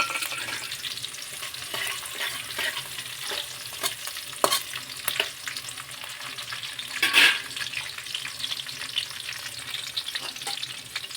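Red chili crackles in hot oil for a matar paneer curry: a steady, close, bright sizzle runs throughout, with occasional soft stirring clinks and one brief louder spatter midway, and no voices.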